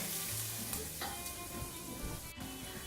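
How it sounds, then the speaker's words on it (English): Roasted garlic warms in a pan with a continuous soft sizzle and frying crackle, punctuated by a few stirring scrapes. "I'm going to add my roasted garlic. And just let that get warm."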